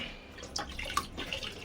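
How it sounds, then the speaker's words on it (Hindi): Water running fast into an empty bucket, a steady splashing rush with small drips and spatters, close and moderately loud. "पानी बहुत तेज आ रहा है।"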